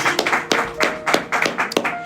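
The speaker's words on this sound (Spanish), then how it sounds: "con un fuerte aplauso, damos la bienvenida a cada uno de ustedes" A church congregation claps in welcome, a small group of close, sharp handclaps in a loose, uneven rhythm lasting a couple of seconds.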